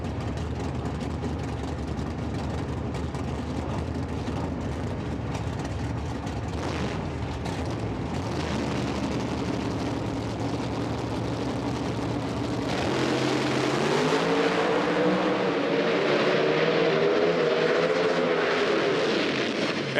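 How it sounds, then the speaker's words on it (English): A nitro drag race car with an in-house built racing engine runs down the strip at an IHRA Outlaw Nitro event, a loud, sustained engine roar that shifts in pitch partway through, with no speech. "Jerry Haas race car."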